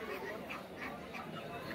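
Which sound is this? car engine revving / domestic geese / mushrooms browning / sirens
domestic geese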